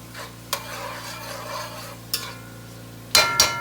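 Onions with a sprig of thyme cooking in a pot for jollof rice, a soft steady sizzle broken by a few sharp clanks of a spoon stirring against the pot.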